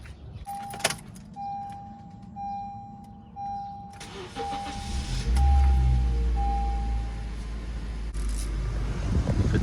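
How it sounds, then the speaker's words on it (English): In a 2013 Honda Civic freshly refilled with coolant, keys jingle, a door chime beeps repeatedly, and then the starter cranks and the engine catches and settles into a loud, steady idle close by. "So now once you have it full like that, you wanna turn on the car."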